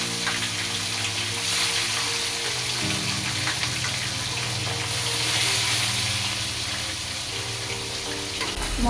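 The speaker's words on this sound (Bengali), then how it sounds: "কাঁটা চচ্চড়ির মাছটা ভাজা বসাবো" Fish pieces for a Bengali fish-bone curry sizzle steadily in a frying pan, a continuous loud hiss with background music underneath and no talking.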